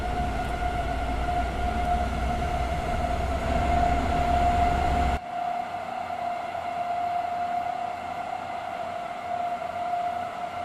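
A class 843 diesel railcar climbs uphill on the Liberec–Stará Paka line in Train Sim World 6, a steady engine drone with a sustained tone that drops abruptly to a quieter rumble halfway through.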